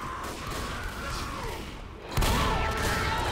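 Continuous rattling gunfire from the zombie shooter game Left 4 Dead, with a dense barrage running throughout and a sharper, louder burst of shots joining partway through.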